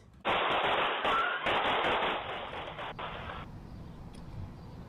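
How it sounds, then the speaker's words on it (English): A sudden rapid burst of gunfire rattles continuously for a few seconds, harsh and muffled, then cuts off into quiet background noise. "You can hear the gunfire."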